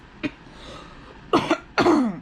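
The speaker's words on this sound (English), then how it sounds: "Try not to cough too much because it hurts." Three sharp coughs from a person with a sore throat after laparoscopic fibroid surgery, one short and faint, then two louder, harsher ones close together, close to the mic in a quiet room.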